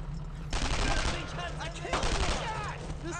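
Rapid bursts of video game gunfire in Brothers in Arms crackle and pop in a dense, continuous barrage as a cannon is shot at, loud and close, with sharp repeated shots layered over battle noise.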